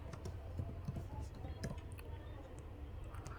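Fast, light clicking of a computer keyboard being typed on in a room with a steady low hum, keystrokes coming in quick uneven bursts.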